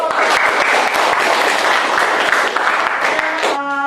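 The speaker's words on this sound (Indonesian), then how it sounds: "Oke, tepuk tangan dulu untuk" Audience applause after a lecture presentation, a loud burst of steady clapping that runs for several seconds and then cuts to a brief tonal sound.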